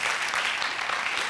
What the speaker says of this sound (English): A warm applause to Gigi and the other jury members